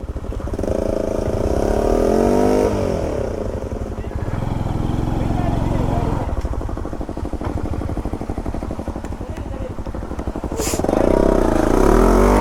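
An off-road vehicle climbs a hill track at Metkal Gudda, its engine revving and labouring loudly in surges as it turns, with people talking and shouting over it.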